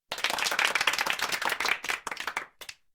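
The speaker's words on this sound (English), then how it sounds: "a round of applause for Sarah." A small group claps for about two and a half seconds at a podcast recording, close and crisp, the claps thinning into a few scattered final ones before silence.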